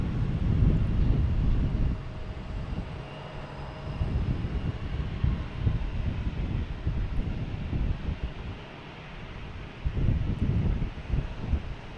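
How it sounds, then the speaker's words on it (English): A JetBlue Airbus A220 airliner arrives at Boston Logan Airport from Houston, a low engine rumble that swells and fades in waves, mixed with gusty wind buffeting the microphone at close range. "We get JetBlue and A220 coming in from Houston."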